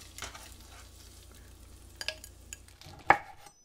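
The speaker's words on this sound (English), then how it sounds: "here I'm using medium heat to brown up a pound of hot Italian sausage" A pound of hot Italian sausage browns in a pan over medium heat, giving a quiet steady sizzle broken by a few sharp clinks and scrapes of a utensil stirring the meat.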